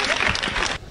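A short burst of dense applause from a group of people, steady and close, then cutting off near the end.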